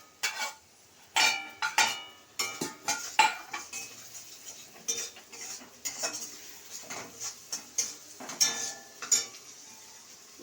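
Chopped tomatoes go into a pan for chana masala, bringing repeated scraping and clinking of a metal spoon against the pan, with a faint sizzle underneath, in an irregular stirring rhythm close by.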